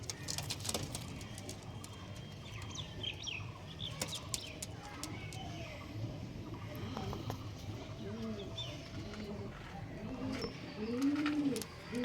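Pigeons, including red-check and top-quality show birds for sale, coo softly and repeatedly at close range, with some wing flutters, while someone talks over them.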